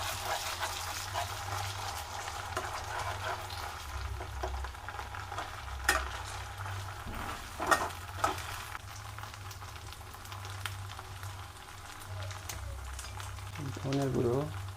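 Onions and ground spice paste fry in a pan for a chicken curry, a steady broadband sizzle with occasional stirring clicks and scrapes, while a voice talks quietly over the cooking.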